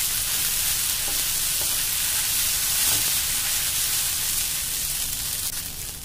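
Sabudana khichdi with coriander leaves sizzles steadily in a hot pan as it is stirred, a continuous close frying crackle with faint scraping of the spoon, no talking.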